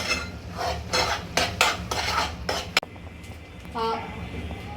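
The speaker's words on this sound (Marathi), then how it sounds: "आता आपण वाटण टाकून आता याचा रंग बदलेपर्यंत आपण याला परतून घेऊया." Ground masala paste being sautéed in a pan in a home kitchen: a series of sharp scraping and clinking strokes of a metal spoon against the pan, then a softer sizzle with brief talk.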